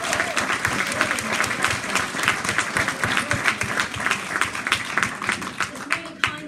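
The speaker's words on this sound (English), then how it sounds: "can we all give them a round of applause?" An audience gives a sustained round of applause at a talk, with dense steady clapping from many hands continuing throughout without letting up.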